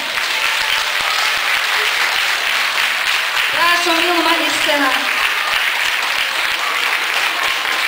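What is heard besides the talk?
audience applause at school dance teacher's award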